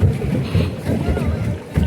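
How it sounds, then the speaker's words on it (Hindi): A small five-person boat paddled in turns on open water, with steady low water sloshing and wind buffeting the microphone throughout; the sound is close and fairly loud. "हमने डिसाइड किया है कि हम टर्न बाय टर्न पैडलिंग करेंगे।"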